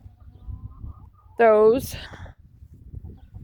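Backyard chickens: one bird lets out a single loud, drawn-out squawk close by, with softer low clucks and rustling around it and a brief spoken word.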